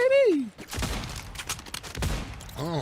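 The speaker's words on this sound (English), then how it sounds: "I hear gunfire all over the place, bro." Gunfire in a shooter video game, a burst of sharp shots between about 0.7 and 2.2 seconds with a voice talking before and after.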